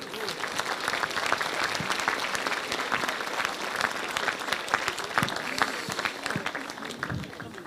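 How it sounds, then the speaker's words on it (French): Sustained applause from a crowd at a mayor's New Year address, steady clapping that fills the room for several seconds with no one speaking over it. "Alors, on peut l'applaudir."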